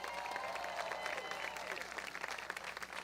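A crowd at an outdoor statue unveiling applauds two police chiefs and a sheriff, a dense, sustained clapping that stays fairly even and begins to thin slightly toward the end.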